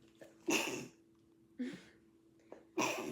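Three short bursty, breathy sounds a second or so apart, like sneezes or sharp exhales, fairly close with no talking.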